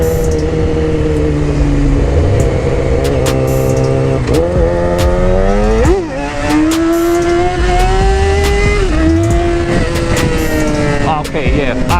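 A motorcycle engine revving up and down through a wheelie, pitch climbing and dropping in repeated surges, close and loud, with someone talking over it.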